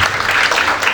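A church congregation bursts into loud, dense applause, a continuous wash of many hands clapping close and strong for a brief moment.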